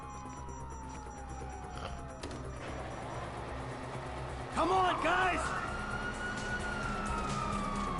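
Police sirens wail in a PS4 video game, swelling in midway over a steady background of game engine noise, while a player speaks briefly.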